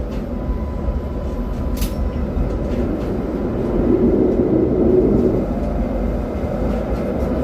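A steady low rumble of a moving streetcar in the New Orleans Garden District, rolling and rattling continuously at moderate loudness with no talking.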